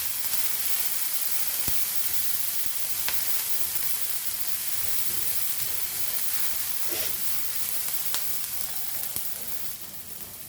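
Chicken filling sautéing in a pan over a low flame, a steady soft sizzle and hiss running throughout with occasional faint clicks of stirring, no one speaking.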